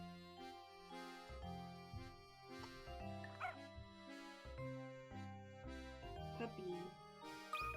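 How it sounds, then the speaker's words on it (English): In the Professor Layton video game, a puppy gives a few small yips and barks over the game's looping, plinking background music, the barks light and brief within the steady tune. "Puppy."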